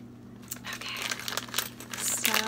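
A plastic Disney pin mystery bag crinkles and tears open for a couple of seconds, a crisp rustling close by with small scissor snips and rattles.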